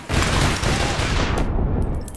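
Dense, loud automatic gunfire from the online shooter APB Reloaded, a continuous rapid burst of overlapping shots lasting about two seconds, close up and without speech.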